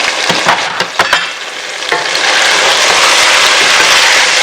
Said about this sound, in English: now I'm adding all the spices all at once